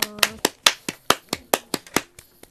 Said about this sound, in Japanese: みんな大きな拍手を。